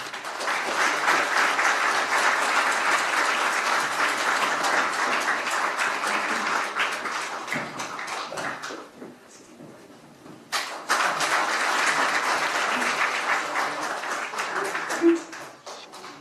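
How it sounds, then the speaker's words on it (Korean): A large audience gives loud, sustained applause to welcome presidential candidate Moon Jae-in, dipping briefly to near quiet midway before the clapping surges again, with speech at times. "여러분 뜨거운 박수로 환영해 주시기 바랍니다"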